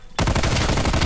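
A Stoner light machine gun fires in a video game, with a loud, rapid, evenly spaced burst of shots that starts abruptly and continues without a break.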